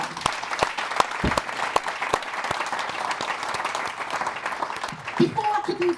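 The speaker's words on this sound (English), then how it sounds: "So can we give her a round of applause for that?" Audience applause at a book launch fills the room with dense, steady clapping, with a few louder claps up front and some voices mixing in toward the end.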